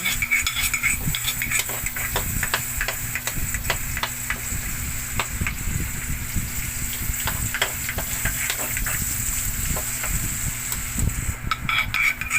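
Garlic sautéing in a pan for laing gives a loud, constant sizzle, with frequent metal utensil scrapes and clinks against the pan throughout.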